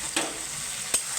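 Chicken pieces go into an onion and spice masala frying in a pan, producing a continuous close sizzle with two sharp stirring scrapes, and no voices.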